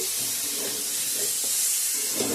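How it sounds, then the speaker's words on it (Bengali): Water poured into dry-fried spices in a pan for a cauliflower curry, giving a steady loud steamy hiss and sizzle that holds throughout with no voices. "মশলার সঙ্গে জল অ্যাড করে দেব"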